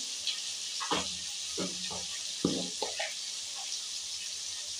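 Spices with turmeric and salt sautéing in a pan make a quiet, steady hiss, broken by a few soft stirring scrapes and knocks.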